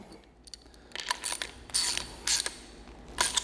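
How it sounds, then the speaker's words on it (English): Plastic clicks and ratcheting snaps as a quick connect is fitted onto an MTM PF22 foam cannon for car washing, heard as several short close bursts with no talking. "We're gonna go ahead and put the quick connect back on"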